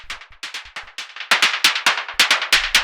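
Hard techno noise percussion pushed through a saturating pedal: a fast, driving run of gritty, hissy bursts that grows louder partway through, with a low thump entering near the end and no voices.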